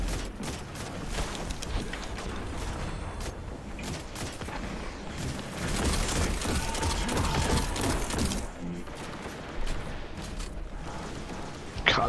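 Gunfire from a weapon in Destiny 2 during a Deep Stone Crypt raid, dense and continuous, with repeated shots layered over busy game effects throughout.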